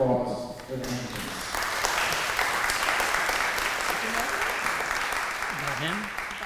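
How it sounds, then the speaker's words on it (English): An audience applauding the guests at a talk on the history of Shiloh Pottery, a sustained round of clapping filling the room after a few spoken words at the start, with a voice briefly heard near the end. "can we have a round of applause for the Hankins?"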